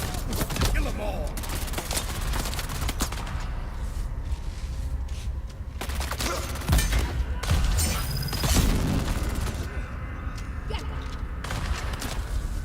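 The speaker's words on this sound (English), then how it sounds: "Look at him shooting through the walls." Rapid bursts of gunfire and booming shots in the video game Dune Awakening, dense and continuous with heavy impacts, some faint voices beneath.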